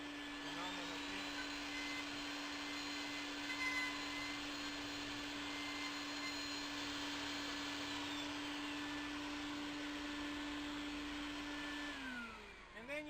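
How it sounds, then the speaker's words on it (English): A dust extractor vacuum connected to a Festool Domino joiner gives a steady, loud machine drone with a high whine for about twelve seconds, then winds down near the end. "Turn on the vacuum hose."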